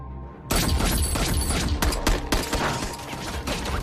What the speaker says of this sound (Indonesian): Dan baku tembak pun terjadi di tempat itu.